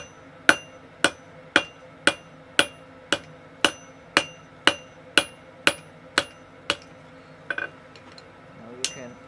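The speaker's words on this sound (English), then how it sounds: "taking a cross peen" A cross-peen hammer forges an offset on the jaws of V-bit blacksmith tongs, ringing out about fourteen evenly spaced, sharp metallic blows, close and clear, followed by a few lighter taps.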